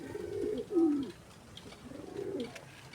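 A white pigeon coos in two soft, rolling phrases with a short pause between, close by and fairly quiet against faint background noise.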